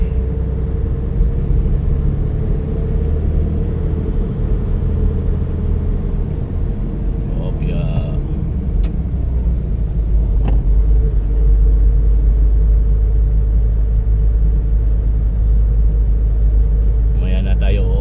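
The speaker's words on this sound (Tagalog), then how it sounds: "Yun lang mga truck ang ating kasabayan mga tolets." Trucks drive alongside a car on a highway near Manila, making a steady, loud, close engine rumble and road roar that continues for the whole stretch, with a few brief rattles in the middle and at the end.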